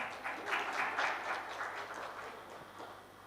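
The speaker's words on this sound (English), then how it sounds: "आप लोग सब clap कर सकते हैं" Audience clapping at a wellness talk on community farmers markets, a soft, steady patter of many hands that stays faint and distant throughout, with no voices over it.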